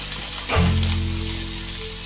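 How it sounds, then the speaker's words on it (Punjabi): Coarsely chopped onions hit hot oil in a pan for red sauce pasta, setting off a sudden loud sizzle that then settles into a steady, continuous frying hiss close by, with no talking. "ਪਾ ਦਾਂਗੇ ਪਿਆਜ਼ ਜਿਹੜਾ ਪਰੇ ਮੋਟਾ ਮੋਟਾ ਕੱਟਿਆ ਦਾ ਇਹਨੂੰ ਆਪਾਂ ਭੁੰਨਾਂਗੇ"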